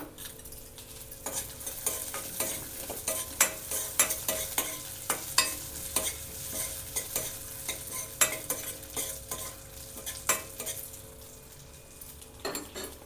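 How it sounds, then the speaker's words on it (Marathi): Dry fruits frying in a spoonful of ghee in a pan for poha ladoo, a soft continuous sizzle punctuated by repeated sharp clinks and scrapes of a spoon stirring against metal, close up, no talking. "यामध्ये आपण ड्रायफ्रूट फ्राय करून घेऊया."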